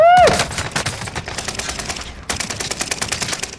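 Rapid automatic gunfire in Call of Duty Rebirth: a sharp opening shot, then quick repeated bursts of close, loud rounds, a short pause, and another rattling burst, with a brief voice in the mix.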